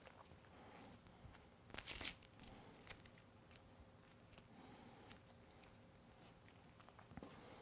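An XLR audio cable being unwrapped from its packaging: soft rustling and handling noises with one brief, sharper tearing burst near the start, quiet and close.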